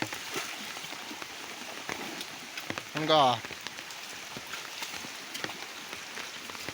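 Rain falls outdoors beside a flooded river where buffaloes are herded, a soft, constant patter with scattered louder drops, and a short spoken word breaks in partway through.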